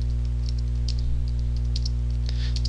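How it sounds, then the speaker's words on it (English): Computer keyboard typing while entering text into a Blackboard wiki editor, a run of light clicks and taps at an uneven pace over a steady low electrical hum, fairly quiet and close. "I can type in some text."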